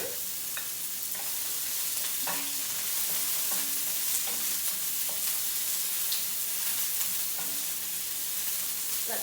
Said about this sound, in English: Let those saute for a few minutes, just so those carrots get a little bit soft.